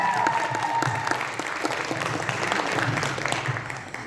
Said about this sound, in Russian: Давайте по нашему аплодисменты.